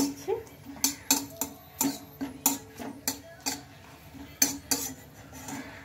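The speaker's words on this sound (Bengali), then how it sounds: "একটু নেড়ে চেড়ে নিচ্ছি" Orange chutney being stirred in a pan with a utensil, giving a steady run of sharp metallic clinks and scrapes at a brisk, uneven rhythm, close and clear with no talking.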